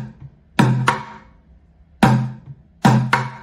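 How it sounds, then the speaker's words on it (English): A plastic bucket drum plays a boom-boom-chick pattern: low, thudding hits in the center of the bucket paired closely together, followed by sharper rim strikes, repeating in a loose rhythm, close and alone. "two low tones in the center of the bucket"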